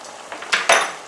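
Spoon scraping and clinking against a pan while tomato puree and thyme are stirred for lasagne sauce, a few soft taps followed by two brighter metallic scrapes, close and brief with no talk.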